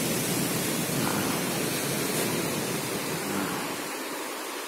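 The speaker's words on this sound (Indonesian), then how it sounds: "Itu hempasan ombak yang datang dari arah laut memasuki kawasan dalam Muaro" Steady broadband roar of sea surf rushing into a river mouth at Muaro Karan Aua, a continuous wash of water with no distinct breaks, moderately loud and without voices.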